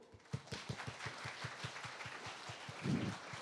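An event audience of people aged fifty and over applauds to welcome the West Covina vice mayor, steady rhythmic clapping in a hall with a slightly louder burst near the end and no speech.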